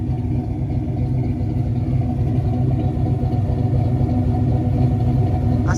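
A Calypso clone car's engine runs at a steady idle close by, a continuous low rumbling hum with no talking.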